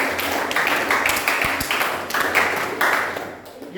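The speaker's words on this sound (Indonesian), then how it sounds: "tepuk tangan buat 11 rektor juga" Classroom applause for the rector: a steady, moderately loud wash of many hands clapping that fades out toward the end.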